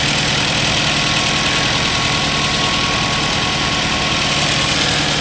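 Close-up of a Jeep engine idling after an injector wiring repair, a loud, steady, even rumble with no change in pitch and no speech.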